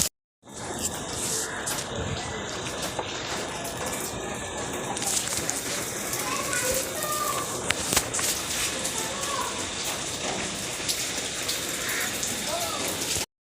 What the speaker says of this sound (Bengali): এখনো বৃষ্টি হয়ে যাচ্ছে